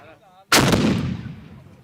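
A large carbide cannon fires once at a village carbide-shooting event in Kollumerzwaag, a sharp, very loud boom that rolls off into a long fading rumble.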